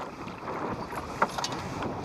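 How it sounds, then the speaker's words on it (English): Steady wind gusting to about 30 miles an hour roars and buffets the microphone, with broadband rumble and a brief gust peak, no voices. "The wind done got up now to where it's probably gusting at 30 miles an hour or so."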